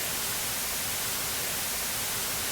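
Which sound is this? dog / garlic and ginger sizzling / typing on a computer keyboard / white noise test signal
white noise test signal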